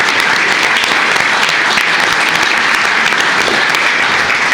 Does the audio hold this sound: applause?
yes